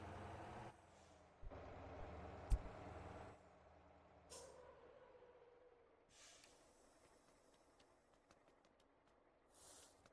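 Heavy garbage truck in the video game Motor Town, with a sharp air-brake hiss and release bursts over a low diesel rumble, then quieter idling with faint clatter and small hisses.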